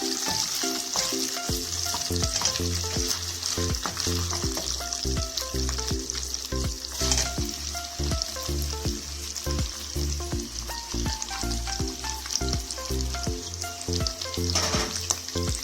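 Meat kavurma frying in vegetable oil in a pot, a loud continuous sizzle with rhythmic stirring scrapes and clicks throughout.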